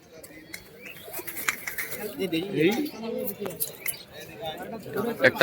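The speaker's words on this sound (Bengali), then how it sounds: "পঁচিশশো টাকায় এক জোড়া পায়রা একটা" Pigeons for sale, a pair of male and female birds, coo in soft repeated rolling calls close by, with a few metallic clinks and people talking over them.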